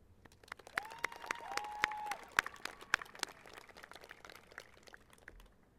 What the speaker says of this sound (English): please give yourselves a round of applause for graduating